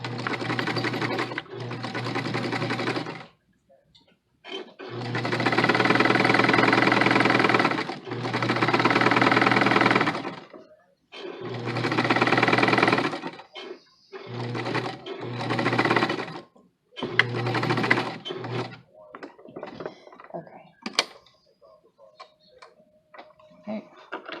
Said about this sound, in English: we're just going to sew right along the raw edge